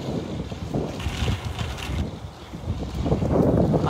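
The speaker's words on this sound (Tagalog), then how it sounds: "Mahangin dito ngayon mga kaibigan." Strong wind buffets the microphone in rumbling gusts, rising louder toward the end over a low outdoor roar.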